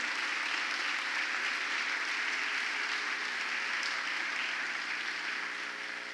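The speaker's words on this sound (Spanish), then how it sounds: "denle un aplauso al Rey de Reyes" Steady applause from a church congregation praising the King of Kings, a dense, sustained wash of clapping that fills the whole stretch at an even, fairly loud level with no voices over it.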